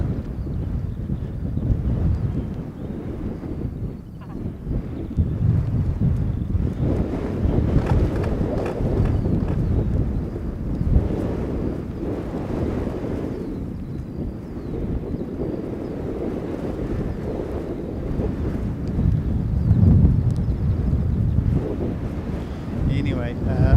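Strong wind buffets the microphone beside an airport runway, a heavy, continuous low rumble that swells and surges for the whole stretch with no clear voices.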